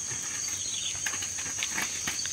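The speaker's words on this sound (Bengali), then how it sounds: "বৃষ্টি পড়ছে এদিকে ফিসফিস করে।" Light rain pattering softly across a palm oil plantation in Malaysia beside a small drainage ditch, a steady fine hiss with faint scattered drops and insect-like chirps, no voices.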